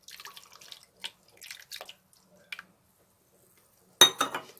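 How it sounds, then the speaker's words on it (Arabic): Small splashes and trickles of water come in short bursts with quiet gaps, ending in a louder pour that splashes briefly into a blender. "المية دي بقى يا حبايبي انزلها في الخلاط كده."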